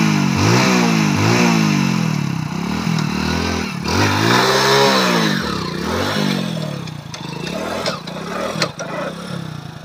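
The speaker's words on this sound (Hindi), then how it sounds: "ये जो बाइक है बहुत ज़्यादा अच्छा चल रहा है।" A motorcycle engine runs loud and close, rising and falling through repeated revs and throttle blips with a steady rumble between.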